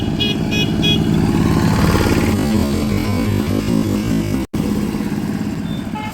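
A motorcycle rides through busy traffic on a road toward Tarakeswar during the Jaldhala pilgrimage. The engine roars loud and close throughout, with a couple of short horn toots early and a momentary dropout near the end.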